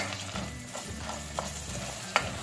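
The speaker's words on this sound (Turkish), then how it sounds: "1 yemek kaşığı dolusu salça ilave ediyoruz ve iyice kavuruyoruz salçamızı da" Tomato paste stir-fried with toasted vermicelli in a pot, a soft steady sizzle with scraping spoon strokes and a few sharp clinks against the pot, close by.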